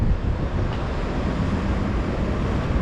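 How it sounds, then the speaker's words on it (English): Continuous wind rumble and microphone buffeting on Mission Street, San Francisco, steady and broadband throughout, with no voices. "It's a little windy today"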